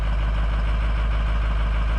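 A 6.0L diesel engine with freshly changed glow plugs idles steadily and evenly, a loud, close, continuous low rumble with no misses or stumbles.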